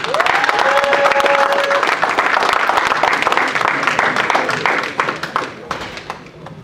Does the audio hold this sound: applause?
yes